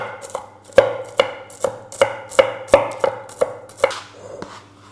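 Nuts being chopped with a knife on a board for a pumpkin and nut lavash roll, close-up sharp regular thuds roughly every half second, about ten strokes with no talk.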